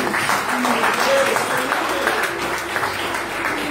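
A church congregation claps in praise during a family worship service, a steady dense wash of applause filling the room with voices mingled underneath.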